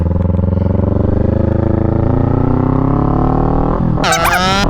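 A motorcycle slowing on engine braking alone, its engine droning loud and close with a falling pitch as it decelerates, then a brief rise in revs near the end.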